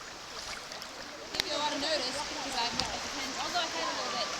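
Creek water flows and splashes steadily around a kayak floating down Antietam Creek at high water, a continuous rushing murmur with occasional sharper splashes, and a faint voice underneath.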